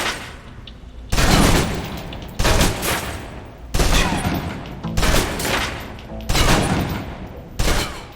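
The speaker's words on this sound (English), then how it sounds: "Now, let's move on to the submachine gun. Now let's empty the clip." A submachine gun in the video game Alpha Protocol empties its clip in loud, close bursts of rapid automatic fire, about six sustained volleys separated by short pauses.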